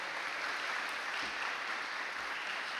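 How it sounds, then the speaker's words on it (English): An audience at a high school National Honor Society induction and hooding ceremony applauds a guest speaker, a steady, even wash of many hands clapping throughout, moderately loud and slightly distant. "How about another round of applause to Ms."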